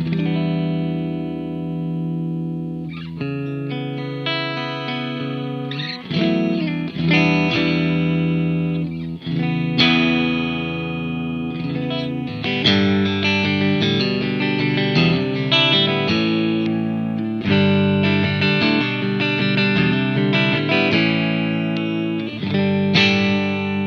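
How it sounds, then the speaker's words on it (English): A new Fender Jazzmaster electric guitar plays chords and riffs through a Fender Deluxe Reverb and Vox AC30 with distortion and reverb-like effects, ringing out in sustained, layered tones. "I'm going to play this brand new J-Mascus Jazzmaster into a deluxe reverb"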